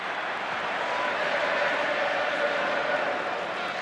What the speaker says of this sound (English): The Wigan crowd breaking out into good singing mood